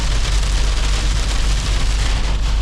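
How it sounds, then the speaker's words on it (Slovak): Steady rain hisses and patters on a surface close by, a dense continuous wash with low rumbling underneath. "Prší, decka."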